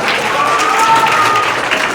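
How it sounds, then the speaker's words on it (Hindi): Loud applause for top-scoring class 10 students, a continuous burst of crowd clapping with a faint tone over it throughout. "तालियां"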